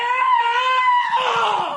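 A voices a long, strained, high-pitched scream imitating the yell he would let out when kicked by Bruce Lee, loud and close, sustained for nearly two seconds and breaking up toward the end.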